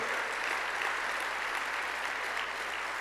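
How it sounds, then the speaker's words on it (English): A large audience at the San Antonio mayor's State of the City address applauds steadily, a dense, even wash of clapping heard from a distance, with no talk over it. "So let's give Daryl a big round of applause for the work that he's doing."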